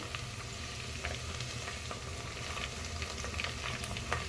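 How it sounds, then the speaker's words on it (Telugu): Onions frying for a mutton curry, a steady dense sizzle in hot oil with faint scraping and crackles throughout, close and continuous with no talking. "ఆనియన్స్ ఫ్రై అవుతున్నాయండి"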